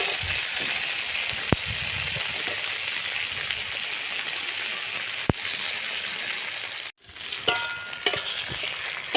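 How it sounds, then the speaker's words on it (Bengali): Tomato and brinjal frying in oil, a steady close sizzle with scraping stirs and occasional spoon knocks; the sizzle briefly cuts out near the end before resuming with clinks. "এইভাবে একটুক্ষণ আমি নাড়াচাড়া করে নেব তেলে।"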